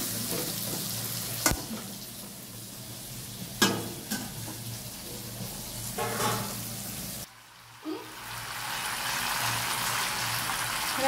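Onion frying with whole garam masala in oil for a mutton kosha, a steady close sizzle with a few sharp clinks and stirring scrapes, the hiss briefly dropping off near the end before returning.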